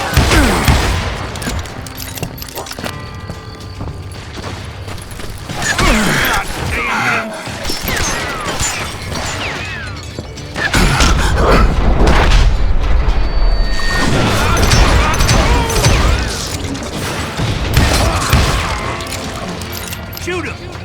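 In the Western shooter game Call of Juarez: Gunslinger, a saloon shootout brings loud, dense bursts of gunfire and booming crashes. Shouting and talk run throughout.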